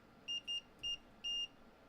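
A multimeter emits four short, high-pitched continuity beeps while a resistor in an old Philips radio is tested, the last beep slightly longer, clear and close over a quiet background.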